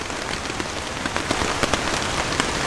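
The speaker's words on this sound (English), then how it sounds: "There's just nowhere to get out of the rain, anywhere in any of this." Rain pours steadily on the west coast of New Zealand during a tahr hunt, a dense patter of drops striking nearby surfaces with scattered sharper taps, no voices.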